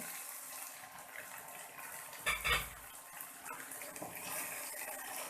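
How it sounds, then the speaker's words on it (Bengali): A lid is lifted off a cooking pot of hilsa fish and green jackfruit curry, giving a single short clatter in an otherwise quiet kitchen with faint background hiss. "এখন আমি ঢাকনাটা তুলে দেব।"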